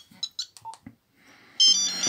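A Nokia 5210 mobile phone from 2003 plays a short electronic ringtone melody of separate beeping notes, quiet and close, ending in a louder, sustained buzzy tone.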